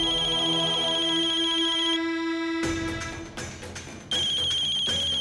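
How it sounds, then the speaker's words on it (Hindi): A loud electronic ringtone plays steadily, cuts out briefly, then resumes at full volume with no talking. "कल्याणी का फोन"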